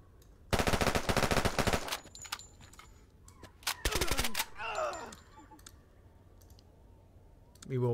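Automatic gunfire in the tactical video game Door Kickers, two loud rapid bursts of shots followed by scattered clicks and a short effect sweep, with quieter gaps between.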